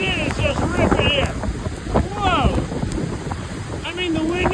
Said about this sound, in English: I mean, the wind, you can't even see the waterfall